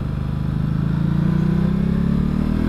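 Motorcycle engine under partial throttle on a gravel road ride, a steady close droning hum that rises slightly in pitch and loudness.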